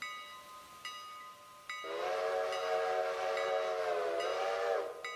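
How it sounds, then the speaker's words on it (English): A steam locomotive horn in the railroad game Railroader sounds two short honks and then one long sustained blast lasting about three seconds, loud and close with no talking. "couple honks of the horn."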